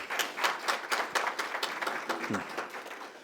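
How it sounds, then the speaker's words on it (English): A crowd applauds two university presidents at a Magic City Classic event, steady soft clapping held at a distance and fairly quiet, with a brief low voice near the end. "please give both presidents a round of applause"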